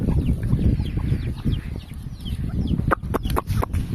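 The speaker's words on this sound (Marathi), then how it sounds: "हे पहा आमच्या कोंबड्या, मी खायला टाकते त्यांना तांदूळ" Chickens clucking while pecking at scattered rice, a close flock giving repeated short clucks and squawks over a rustling, breezy background, with sharp pecking taps toward the end.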